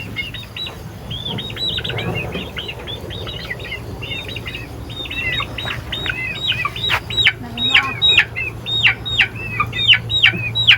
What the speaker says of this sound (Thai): เสียงไก่เนาะ